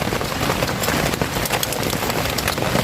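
Heavy rain pounds a closed camping tent at the foot of a mountain, a dense, continuous patter of drops drumming loudly on the fabric with no voices.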